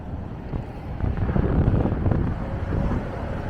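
Steady wind on a bridge crossing buffets the microphone with a low, rumbling roar that swells slightly midway, with no voices.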